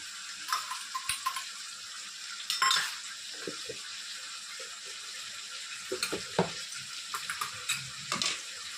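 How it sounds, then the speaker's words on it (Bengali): A pan of chilli chicken sizzles steadily as chili, tomato and soy sauce go in, with scattered clinks and scrapes of a utensil against the pan and soft stirring, no voices. "এবার দিয়ে দেবো এই যে সসটা তৈরি করে রেখেছিলাম, chilli sauce, tomato sauce, soya sauce, এই সসটা দিই।"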